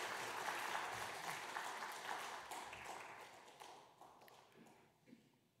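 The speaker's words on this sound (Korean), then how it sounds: "수료증과 선물을 들 때 박수로 축하해 주시기 바랍니다" A church congregation applauds during a Sunday worship service, celebrating as members receive completion certificates and gifts; dense, steady clapping fills the room and gradually thins and fades toward the end.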